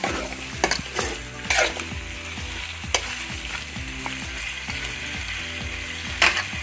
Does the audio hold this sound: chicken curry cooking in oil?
yes